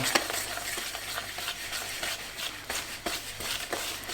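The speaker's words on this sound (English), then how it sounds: "take your egg that's been violently beaten together with some milk and oil. Mix it in" Beaten egg, milk and oil being mixed into gluten-free Christmas muffin batter make repeated wet, scraping stirring strokes in a bowl, close and fairly constant, with no voices.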